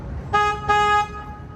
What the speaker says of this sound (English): I do have to honk my horn right here, just a heads up.